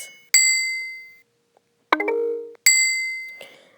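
Several bright electronic chime tones play one after another, each ringing out and fading, with short silences between them.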